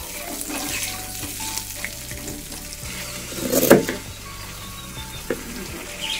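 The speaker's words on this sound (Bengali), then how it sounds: "আর এবার আলুগুলো ভাজতে বসিয়ে দিচ্ছি।" Potato pieces frying in a pan, following fried fish heads, give a steady sizzle with light clatter and a brief louder stir near the middle. No voices are heard.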